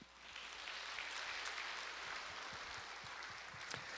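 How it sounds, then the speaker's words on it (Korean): Congregation applause welcoming new members during a Sunday morning church service, a steady, dense wash of clapping filling the room throughout with no voices. "동산의 가족이 되신 분들께 박수로 환영하겠습니다"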